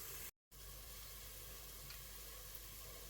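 Steady sizzling of tomatoes dropped into a pan of frying ginger, garlic and onion, a dense hiss that cuts out briefly near the start, then returns and continues evenly.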